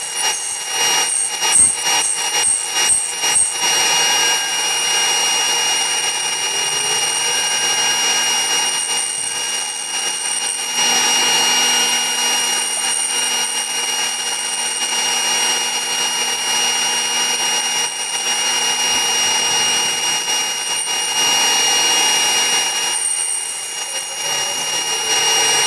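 A power tool cutting out a tray-making template whines continuously, steady and loud and close, after a few quick start-up bursts, cutting without pause for the whole stretch.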